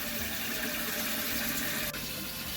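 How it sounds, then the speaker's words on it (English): A hose pipe on full flow pours into a koi pond, giving a dense, steady rush of splashing water close by that goes on without a break. "take the trickling off and get the hose pipe on full bore"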